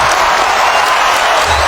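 Arena crowd at a close basketball game roaring and clapping in a loud, dense, unbroken wash of applause and cheering.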